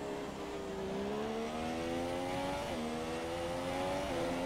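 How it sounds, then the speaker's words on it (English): Mercedes engine of a Formula 1 car in the racing game F1 2017, a steady high-pitched whine that holds and climbs through the gears with brief shift dips, continuous and fairly prominent without talk. "It's called a Mercedes engine."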